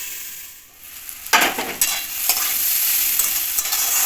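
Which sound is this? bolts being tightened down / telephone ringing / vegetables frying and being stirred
vegetables frying and being stirred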